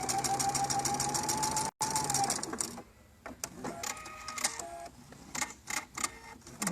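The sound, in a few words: sewing machine sewing a seam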